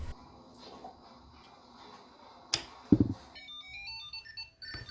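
Tile Mate 2020 Bluetooth tracker ringing, a series of bright electronic melody chirps that start faint and grow into a clear tune after a couple of sharp knocks, close by and alone.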